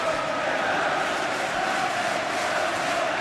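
A football stadium crowd at the Germany versus England Euro 96 semi-final gives off a continuous, even roar of massed voices that stays steady throughout without any eruption.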